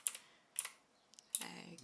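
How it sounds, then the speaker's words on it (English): A noisy computer keyboard in use: three short clusters of crisp, close key clacks separated by quiet pauses, the last burst slightly longer and fuller. "I completely forgot to change my keyboard again. I keep saying that I'm going to change it before the next stream because it's so noisy"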